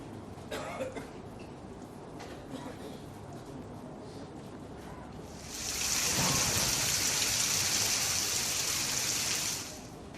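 Unseasonal rain falling in the Salaya area near Khambhalia, Dwarka, with a speaking voice over it; a steady hiss swells louder in the latter half and then eases off near the end.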